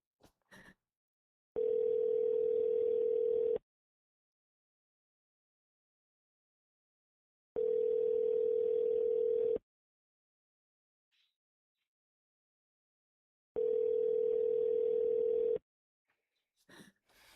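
An unanswered phone call plays three long ringback tones, each about two seconds, separated by stretches of silence, with brief clicks at the start and end.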